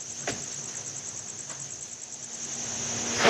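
Crickets bred in a 3,500 square foot indoor farm chirp in a steady, continuous high trill, with a couple of brief clicks near the start and a soft low hum underneath.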